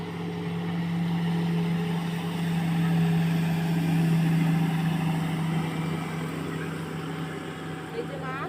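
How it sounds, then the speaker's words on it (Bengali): A speedboat passes on the water near a fishing net, its engine a steady, droning hum that swells slightly and then eases, with a voice talking outdoors over it. "এই যে ওই যে বন্ধুরা দেখো একটা স্পিড বোট যাচ্ছে।"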